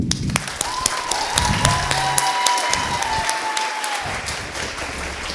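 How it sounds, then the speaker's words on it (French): Audience applause at a school talent show, a burst of loud clapping from a crowd that continues evenly with a few whoops before tapering off. "Veuillez les applaudir chaleureusement."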